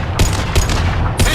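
Gunfire in the video game Mass Effect, three loud sharp bursts of shots in quick succession over a noisy combat background.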